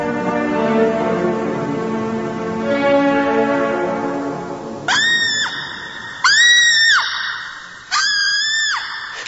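A recorded scream from the Shrieks and Creaks board game tape: a long wavering, howling scream, followed by three loud, separate piercing shrieks rising and falling at even intervals, with no talk.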